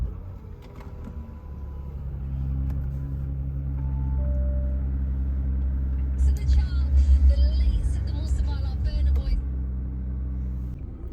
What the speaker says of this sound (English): should we crack on and start this car up before we lose any interest?